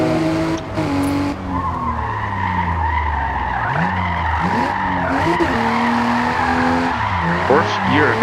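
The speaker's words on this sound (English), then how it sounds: "Fourth gear drifting. I mean, we're drifting in a fourth gear with a stock engine car." A stock-engine car drifting in fourth gear in Forza Horizon, tires squealing continuously as the engine drones and revs up and down in a loud, unbroken slide.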